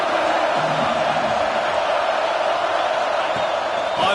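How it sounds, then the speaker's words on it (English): A dense home crowd at an Oklahoma football game roars loudly and steadily, a thick wall of cheering and shouting with no break. "how nice is it to have the home crowd going absolutely bananas?"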